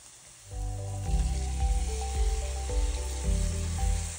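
Spices sizzling and frying in a hot pan for chole masala, a steady loud crackle that swells in several pulses over a low tonal hum of kitchen background, with no talking.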